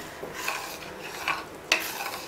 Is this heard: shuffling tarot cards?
no